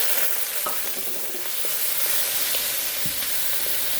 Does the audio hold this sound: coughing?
no